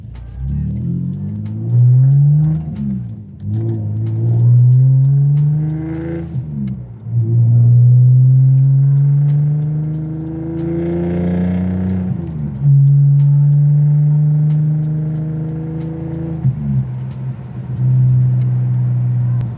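BMW E46 car driven on the road while collecting construction materials, its engine revving up through several gears in repeated rising pulls with brief dips at each shift, loud and close.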